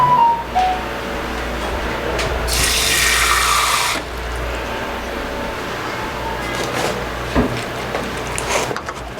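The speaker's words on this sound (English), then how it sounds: "I get some water here." Water pours in a short, bright rush from a tap or jug into corn roti dough in a kitchen, followed by softer rubbing and mixing sounds nearby.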